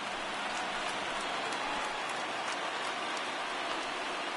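Steady, dense rain pours down during a baseball game, a constant hiss of drops with no pauses and no talk.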